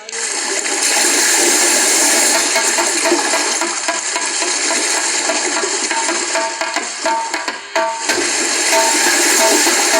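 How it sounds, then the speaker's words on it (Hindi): Loud gushing, churning water played as a sound effect of a deer drinking in a forest scene during a Ramlila stage play, a continuous rushing flow like a flushing toilet that dips briefly near the end. "लगता है कोई मृग पानी पी रहा है"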